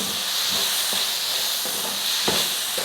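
Chopped tomatoes and a rice mixture sauté in a hot pan, giving a steady bright hiss with a few soft clinks and scrapes of stirring.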